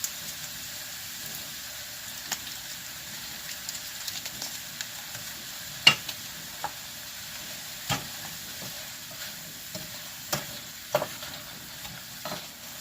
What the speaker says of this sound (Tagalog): We need to put the beef cubes